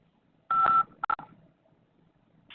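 Cell phone keypad tones sound as a phone number is entered: one longer beep, then two quick short beeps, crisp and close against a quiet background.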